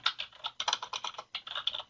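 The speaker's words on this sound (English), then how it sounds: "As I begin typing" Quiet, steady typing on a computer keyboard, a run of light clicking keystrokes in uneven bursts with short pauses between them, heard alone.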